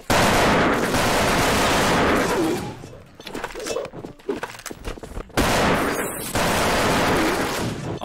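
Rapid bursts of gunfire in the game Wolfteam, dense and loud, pausing briefly midway before another heavy volley resumes.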